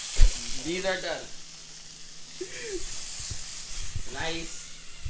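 Food fries in a pan on a home stove with a steady, close hissing sizzle, while a few short voice-like sounds rise and fall over it.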